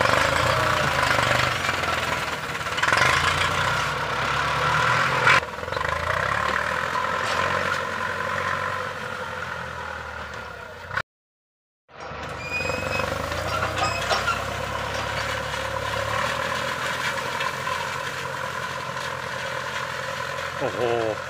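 A legendary Ford tractor engine runs steadily while plowing a plot, a loud, continuous rumbling drone with a knocking undertone that drops out briefly for about a second midway, then resumes; a voice speaks over it.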